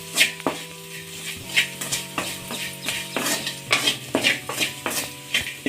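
Okra fry being stirred in a pan after salt is added, with repeated clinks and scrapes of a utensil against the pan over a soft sizzle, close and steady with no talking.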